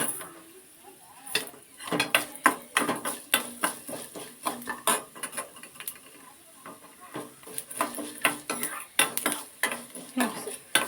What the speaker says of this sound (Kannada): ಸ್ವಲ್ಪ ಬೆಚ್ಚಿಗಾದ್ರೆ ಸಾಕು ಇವಾಗ ಜೀರಿಗೆ ಹಾಕ್ತಾ ಇದ್ದೀನಿ